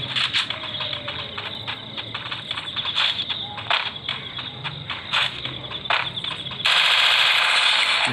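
Gunfire in the mobile video game Free Fire with a shotgun and an MP gun: repeated sharp shots in irregular bursts over a steady game hum, ending in a louder, denser rush of noise.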